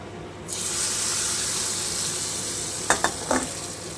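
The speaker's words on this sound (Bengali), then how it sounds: "আমি উপর থেকে তরকাটা দিয়ে দিচ্ছি" Hot tempering poured over sambar dal bursts into a loud, steady sizzle that holds for several seconds, followed by a few sharp clinks and scrapes of a spoon near the end; no one speaks.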